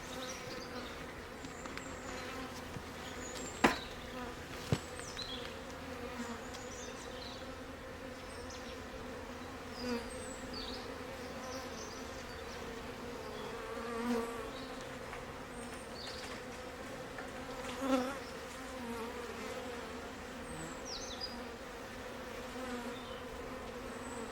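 Honeybees buzz in a steady, layered drone around a hive in the woods in Italy, with individual bees zipping past up close and a couple of sharp clicks.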